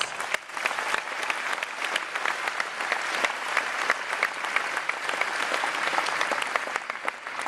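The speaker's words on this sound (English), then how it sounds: "Give him a round of applause." A studio audience applauds during a Jeopardy! game played against IBM Watson at Lotusphere 2011, with a sustained, even burst of crowd clapping that has crisp individual claps and no talking.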